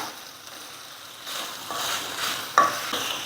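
Cut carrots and green beans tossed into a hot pan for rava kichadi, giving a soft steady sizzle with scraping stirs that swell after the first second and a sharp clink near the end.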